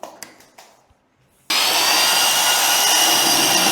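Faint handling knocks give way abruptly to the loud, steady whirring drone of an electric mixing machine churning thick paste close by, continuing unbroken to the end.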